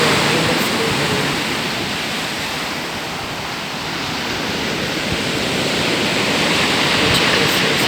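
River waves colliding with sea waves where a river flows into the sea, a constant broad roar of churning water, close and loud, with no talking.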